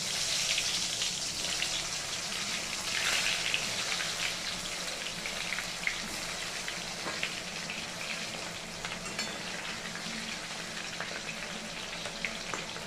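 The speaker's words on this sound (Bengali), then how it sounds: "এবার আমরা পটলগুলোকে একটু ব্রাউন কালার করে ভেজে নেব" Oil sizzles and crackles continuously at close range as pointed gourd pieces fry in a pan, with scattered sharp pops and no talking.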